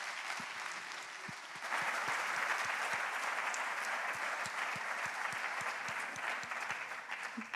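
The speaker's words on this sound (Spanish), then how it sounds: "os voy a pedir un aplauso muy grande para los participantes más de la mesa" An audience at a panel session applauds the participants, steady dense clapping from a large room that swells and holds before tapering slightly.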